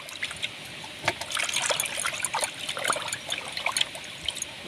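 Water trickles steadily in an irregular patter while fresh flowers are rinsed clean of soil, the close splashing continuing alone throughout.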